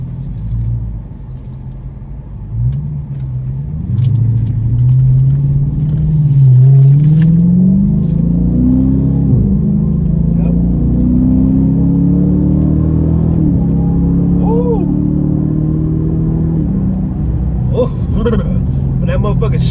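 A car with a muffler delete pulls out and accelerates, its loud deep exhaust drone rising in pitch through the gears, heard from inside the cabin with someone talking over it.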